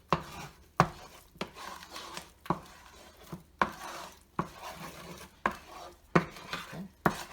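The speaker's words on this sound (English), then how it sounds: "it's not as easy to stir it, so I'm actually going to stir it a little bit faster to still be able to move everything around" Bell peppers in a thickening sauce are stirred in a pan, giving repeated scraping strokes in a steady rhythm about every second, close and moderately quiet with no talking.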